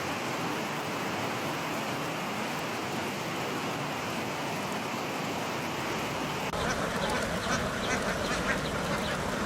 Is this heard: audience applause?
no